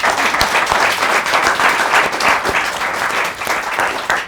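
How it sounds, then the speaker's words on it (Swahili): An audience at a live talk show gives the guest a hearty round of applause, loud and continuous with a few sharper individual claps standing out. "Wapi makofi ya guest wetu leo?"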